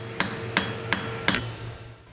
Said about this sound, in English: He's gradually lengthening the shank with the peel of the hammer.